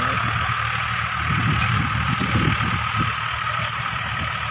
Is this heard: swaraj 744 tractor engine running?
yes